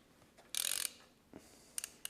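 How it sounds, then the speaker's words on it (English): A wrench ratchets as M9 fitting screws on a car are loosened in sequence, giving a short burst of close metallic clicking followed by a few sparse clicks. "Now we need to release all of the screws in a specific sequence."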